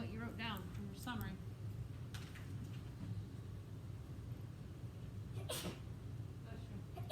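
A sneeze bursts out early in a classroom, followed by brief rustling and another short sharp outburst later, all over a constant low rumble of room noise.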